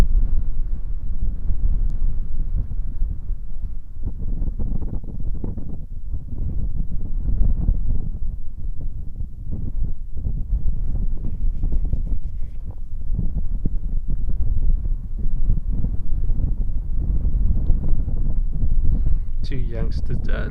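Steady wind buffets an outdoor microphone in a nature setting, a continuous low rumbling roar with gusty fluctuations throughout, with faint higher rustles near the end.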